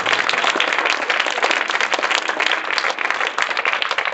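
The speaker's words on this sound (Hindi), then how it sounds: "यदि उनका उत्तर सही है तब आप इनके लिए ताली बजाएं" An audience in a Hindi classroom or hall setting claps together in sustained, dense applause that stays loud and steady throughout, with no voices standing out.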